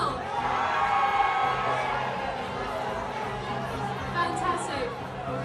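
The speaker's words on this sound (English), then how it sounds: "Give me a cheer if you're from Dingwall." A live show audience responds to a call for Dingwall residents with a sustained crowd roar of cheers, whoops and chatter, steady and fairly loud throughout with a slight swell near the end.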